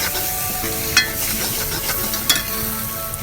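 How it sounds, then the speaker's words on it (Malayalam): Onion and spice mixture for a Kerala-style egg masala sautés in a pan with a constant sizzle, and a spoon scrapes and stirs through it. A few sharper clicks of metal against the pan break in, and no voice is heard. "ഇത് നന്നായിട്ട് വഴറ്റുക, നന്നായിട്ട് ഇളക്കി കൊടുത്ത് നല്ലൊരു ബ്രൗൺ കളറാകുന്നവരെ നമുക്കിത് വഴറ്റിയെടുക്കാം"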